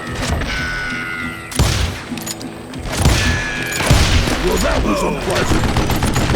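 Call of Juarez: Gunslinger game audio carries bursts of gunfire and thudding impacts, loud and close, among ringing game effects. A voice speaks briefly in between.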